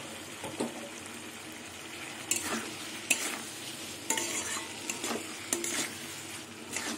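Taro and potato pieces stirred through a spice paste in hot oil for a Bengali catla fish dish, giving a soft steady sizzle with several louder scraping stirs at intervals, close by and with no talking.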